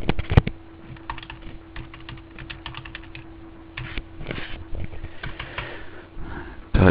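Fingers type on a computer keyboard to enter accounting data, giving close, irregular bursts of key clicks with brief gaps and no talking.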